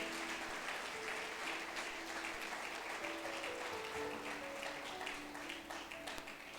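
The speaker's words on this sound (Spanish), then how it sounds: "Alguien dele un aplauso al Señor en esta hermosa noche." Faint congregational applause at an evening church service, a soft, continuous wash of clapping with sustained musical tones sounding underneath throughout.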